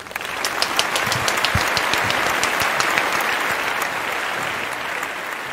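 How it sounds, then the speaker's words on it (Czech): A studio audience on a Czech radio show claps, dense and sustained applause that holds steady for several seconds before easing slightly toward the end. "my začneme potleskem"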